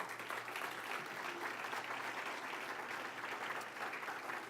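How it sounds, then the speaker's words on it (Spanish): A church congregation applauds, a continuous wash of many hands clapping at a steady, moderately loud level from start to finish, with no voices standing out above it. "Denle un aplauso al Señor, por favor."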